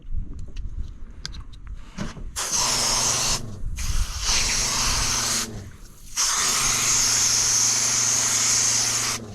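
A hose sprays water over diced flounder on a boat, with loud hissing bursts that stop and restart several times after a quieter opening.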